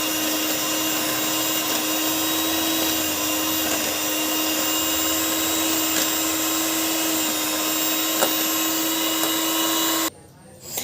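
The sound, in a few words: electric mixer whipping cream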